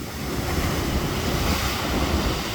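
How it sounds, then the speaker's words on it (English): Ocean waves crash against the rocky shore of Acadia National Park at high tide, a loud, steady wash of surf with windy rumble throughout. "But if you want to see all the crashing waves, then high tide."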